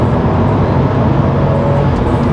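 A stock twin-turbo car accelerates from inside the cabin, its engine drone loud and steady with a rising tone as the second turbo comes in, no other voices over it.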